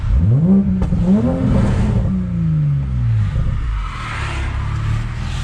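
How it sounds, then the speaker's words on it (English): A car engine revved alone at close range, climbing in a rising whine, briefly holding high, then sliding back down to a steady idle, loud throughout and still on stock exhaust. "I could probably rev it here without being obnoxious."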